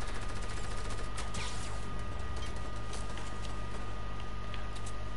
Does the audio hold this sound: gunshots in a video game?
yes